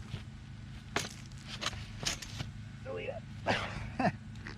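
A dog yips and barks in short bursts during a snowboard jib board session at home, with soft whimpering sounds between them and people talking throughout.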